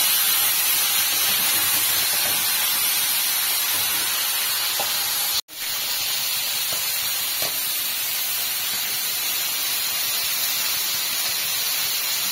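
Water poured into a hot pan while cooking fish in a home kitchen sets off a continuous loud, close hiss and sizzle that runs throughout, with a brief dropout midway and no talk.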